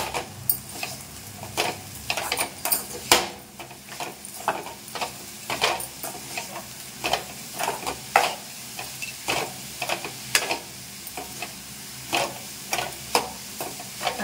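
Grated coconut and jaggery stuffing for kozhukattai is stirred in a pan, giving a steady run of soft scraping strokes over a faint sizzle, close by and with no talking.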